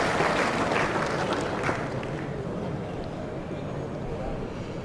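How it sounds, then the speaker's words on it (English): Applause from a crowd at a crown green bowls quarter final, steady continuous clapping that fades slightly, heard under a commentator's voice. "the crowd down that end applauded Pearce"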